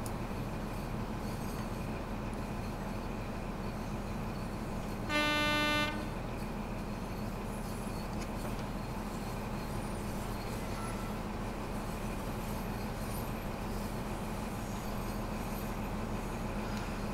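A Class 43 HST on the Midland Mainline in the video game Train Sim World 3 rolls steadily with a continuous low rumble. A single short horn toot sounds partway through.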